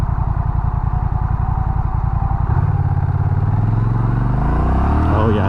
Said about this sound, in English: Do a quick little blip in sport here, see how the throttle map feels.